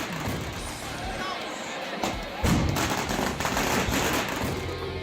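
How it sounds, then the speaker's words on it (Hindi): Volleys of gunfire from dozens of guns in Dausa, with cannon shots also fired: dense, continuous crackling bangs and heavy thuds that swell louder midway, with crowd voices mixed in. "ताबड़तोड़ गोलियां चल रही हैं, एक दो नहीं दर्जनों बंदूक आग उगल रही हैं"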